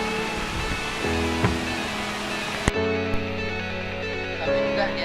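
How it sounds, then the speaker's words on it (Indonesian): Tembalang waterfall in Berau, reached after a forest hike: a steady, full rush of falling water fills the scene, with a low tonal hum and a couple of sharp knocks partway through. "Sampai juga di air terjun Tembalang."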